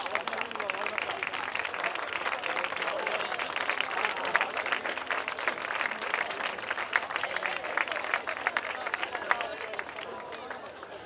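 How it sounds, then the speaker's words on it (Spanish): A crowd gives a loud, sustained round of applause for the top women finishers at an international race walking grand prix in A Coruña, dense clapping running throughout, with an announcer's voice and crowd murmur mixed underneath. "vamos a darle un aplauso muy fuerte"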